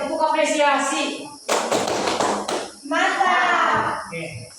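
Schoolchildren give an appreciation clap in an Indonesian classroom: one dense burst of group clapping lasting about a second, set between stretches of children's chanting voices.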